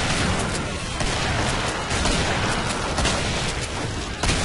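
Gunfire and grenade blasts rage in Killing Floor as a player fires grenades at a shotgun-wielding enemy, a dense, loud, continuous barrage of shots and booms with no talk.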